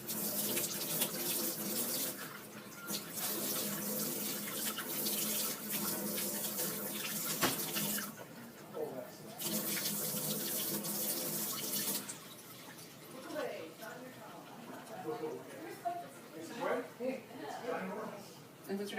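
Warm water running from a tap into a bucket with dish soap while preparing to bathe a big dog in veterinary nursing, a steady hissing stream broken by brief pauses, with someone talking over it.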